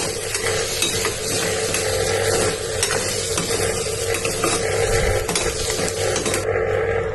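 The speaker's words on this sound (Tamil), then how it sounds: "இஞ்சி பூண்டு விழுதும் வெங்காயத்துக்கூட சேர்த்து வதக்கிக்கோங்க நல்லா கருவேப்பிலையும் சேர்த்து நல்லா வதக்கிக்கோங்க" Onions frying in a pan with ginger garlic paste and curry leaves for a rajma, pea and potato kurma, a steady close sizzle with scraping stirs throughout and no talk.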